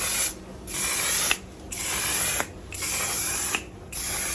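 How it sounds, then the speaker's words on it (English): Pink-and-red-packaged One Size On Till Dawn mattifying waterproof setting spray misting in four separate bursts, each a close, loud, hissing spritz about a second long, with a faint click marking the start of several. "The first one is going to be the One Size On Till Dawn Mattifying Waterproof Setting Spray."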